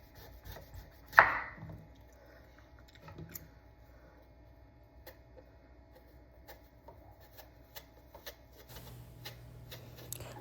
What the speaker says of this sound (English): So y'all, basically I'm just cutting up all my eggplant.